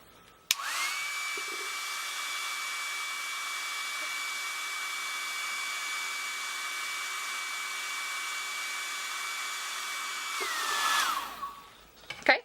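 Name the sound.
heater blowing hot air onto a Jamberry nail wrap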